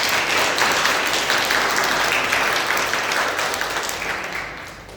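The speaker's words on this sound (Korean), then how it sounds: "박수로 환영하겠습니다." Church congregation clapping in welcome during a Sunday worship service, loud and continuous from many hands close by, gradually tapering off toward the end.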